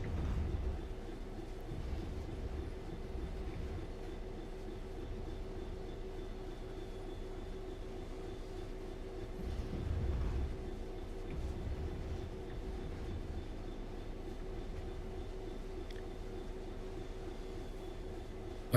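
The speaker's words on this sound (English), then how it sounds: "this is a heavy train, so I'm coming in a bit slow" A heavy train in Train Sim World 5 on the Birmingham Cross City line rolls slowly toward a signal, giving a low, faint, steady rumble that swells slightly midway with no talking.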